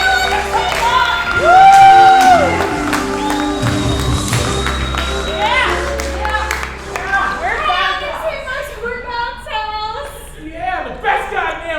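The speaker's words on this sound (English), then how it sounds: "A round of applause to Bell's House!" A live improv comedy crowd at UCB Hell's Kitchen applauds and cheers the improv team Bell's House, with clapping swelling loudly near the start, then fading into chatter and voices talking over it.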